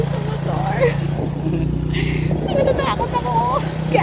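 A motorcycle engine runs steadily during a ride toward Binurong Point in Catanduanes, a low drone that continues beneath close, frequent talking from riders.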